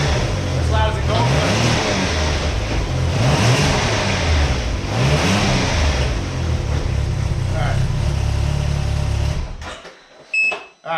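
A Can-Am Ryker three-wheeler fitted with a new Brannon King exhaust revs hard and close, its engine rising and falling in repeated surges for about ten seconds before it drops off abruptly and goes quiet.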